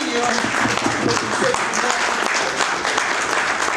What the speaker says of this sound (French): applaudissez pour monsieur